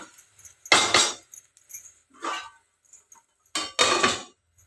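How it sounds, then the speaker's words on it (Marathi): A steel pan of curd chili cooked with crushed peanut powder gets its lid set on, giving a few bright metallic clanks and clinks of metal against metal, close and fairly loud, with short pauses between the knocks and no talking. "आणि मग थोड्या वेळ आपण याला झाकून ठेवूयात"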